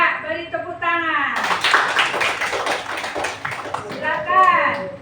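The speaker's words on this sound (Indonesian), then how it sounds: "Coba beri tepuk tangan." Classroom applause from a group of students, a burst of steady clapping lasting a few seconds, with a teacher talking just before and after.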